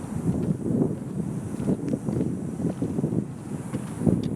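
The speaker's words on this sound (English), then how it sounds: "It's very windy out. Might make this video difficult to do." Strong gusty wind buffets a microphone outdoors, rumbling in uneven low bursts that rise and fall continuously with no talking.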